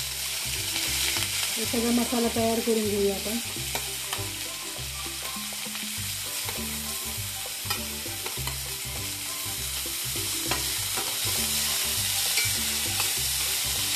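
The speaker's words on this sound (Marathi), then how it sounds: "आता कांदा टाकूया कढईमध्ये." Chopped onion frying in hot oil in a kadai hisses and crackles in a continuous, close sizzle, with occasional stirring clinks, while someone talks briefly over it.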